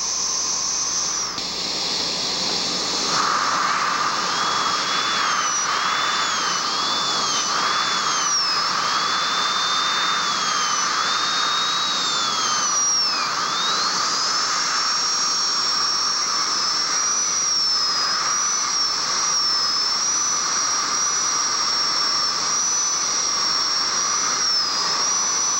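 High-speed dental handpiece driving an inverted cone diamond bur while refining a tooth preparation for an anterior pinledge bridge: a steady, close, shrill whine with pitch dips and glides as the bur meets the tooth, continuous throughout with no talk.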